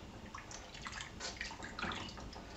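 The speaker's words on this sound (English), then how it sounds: "I'm going to just swish these around," Pickles are swished around in a bowl of cold water, making steady close sloshing and splashing with small drips throughout.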